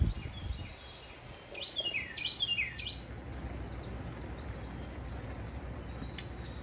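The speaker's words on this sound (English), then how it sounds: "Okay, bird, we get it." Birds sing outdoors in a few bright, rapid chirping phrases near the middle, over a steady outdoor background hiss with faint insect-like buzz.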